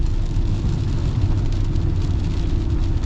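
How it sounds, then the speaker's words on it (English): A steady low rumble of tire noise on the road inside a moving 2023 Ram 1500 Rebel pickup truck, constant and droning with a faint hiss above it; no talking. "You hear a little bit of tire noise."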